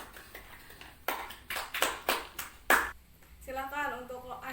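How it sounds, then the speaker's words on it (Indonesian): Schoolchildren in a classroom clap for the winning group, several sharp bursts of handclaps at close range, followed by a voice speaking. "Tepuk tangan."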